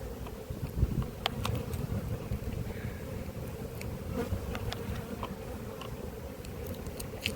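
Honeybees buzz continuously at an apiary, a close, dense hum with individual bees zipping past the listener now and then, with no talk over it.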